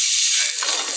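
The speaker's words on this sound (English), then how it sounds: "We're going to start searing the fish, saute our veggies" Fish searing in a hot pan gives off a steady, bright sizzle that holds at an even level for a second, with no voices.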